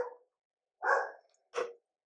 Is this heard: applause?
no